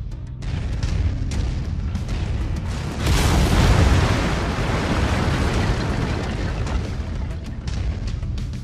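Mech lasers firing in MechWarrior 5: Mercenaries make a loud, continuous roaring blast that swells to its strongest burst partway through, over a dense rumbling backdrop with no talk.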